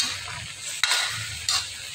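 Eggplant and long beans are stir-fried in a pan with a soft continuous sizzle, broken by two sharp scraping strokes of a utensil against the pan, close and alone.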